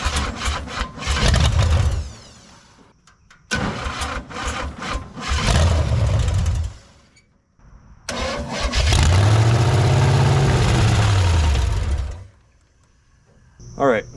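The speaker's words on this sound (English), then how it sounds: "That's a 454 Hyundai accent if I ever heard one" A 454 engine swapped into a Hyundai Accent during a car build, loud and close, cranking and revving in bursts, cutting out, then running steadily for several seconds before dropping off.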